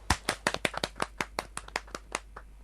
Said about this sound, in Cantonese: 我哋俾啲掌聲。